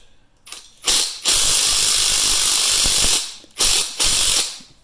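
A bearing separator puller is worked on a seized bearing during a bottom-end rebuild of a Husqvarna K-series cut-off saw. Loud, close mechanical bursts come in three separate runs with short pauses between, and no one speaks.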